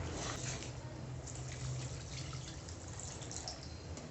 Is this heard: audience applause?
no